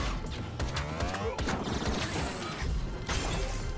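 Dense rapid gunfire with scattered explosions and shattering bursts from the Western sci-fi twin-stick roguelike TombStar, a continuous loud fusillade with no speech.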